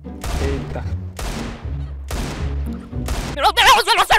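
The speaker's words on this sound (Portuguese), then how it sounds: "Meu Deus, eu não acerto o tiro!" Gunfire from the video game CS:GO, three loud rapid bursts each trailing off, followed by an excited shout from a player.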